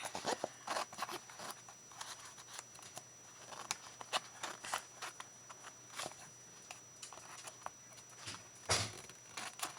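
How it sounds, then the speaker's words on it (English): Scissors snip paper while trimming pieces for a collage or card craft, a string of sharp, close, irregular cuts with short pauses between them in a quiet room. "I guess I'm going to use my scissors to clean that up."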